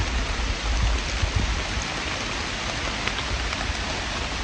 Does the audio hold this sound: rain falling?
yes